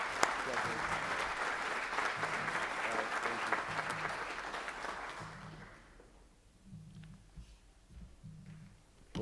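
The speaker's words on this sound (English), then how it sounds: "let's give them one more round of applause" An audience at a school board of education meeting applauds student water polo teams, a dense burst of clapping that fades after several seconds into scattered claps and quiet speech.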